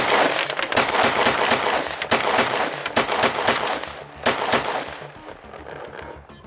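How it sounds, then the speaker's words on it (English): Rapid string of Glock 17 pistol shots emptying a magazine after a sludge reliability test, loud sharp cracks fired in quick bursts with brief pauses between groups, close by and without talk. "Let's do a couple more shots and then a mag dump."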